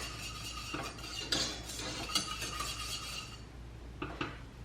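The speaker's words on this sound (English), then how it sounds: "I will give it 1 more whisk." Metal whisk stirring a chocolate ice cream base in a bowl, giving steady scraping, clinking strokes with a few sharper knocks against the bowl's side, close up and continuous, then a pause and two last taps.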